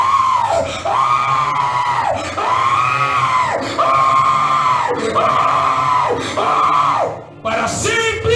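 A church congregation imitating the screams of souls thrown into fire: many voices together let out loud, drawn-out wailing cries in about six repeated waves, rising and falling, filling the room.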